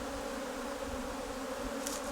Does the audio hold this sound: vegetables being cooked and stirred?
no